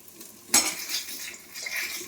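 Eggplant frying in a pan, a sharp clatter of a utensil against the pan followed by a soft close sizzle and light scraping; no talking.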